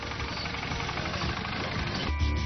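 An articulated four-wheel-drive tractor drives off-road over rough terrain, its engine a continuous, loud, gritty drone with steady knocking vibration that shifts toward the end.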